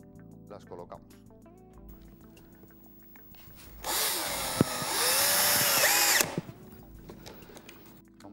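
A power screwdriver drives screws into a concealed cup hinge on a cabinet, giving one loud steady whir of roughly two seconds with a sharp click in the middle, preceded and followed by quiet room sound and a voice speaking.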